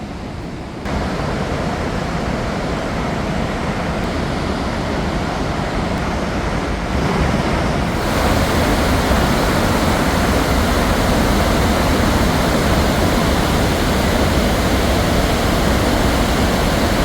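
Rhine Falls waterfall roaring as a loud, steady broadband wash of falling water that fills the whole clip, swelling slightly stronger partway through, with no voices.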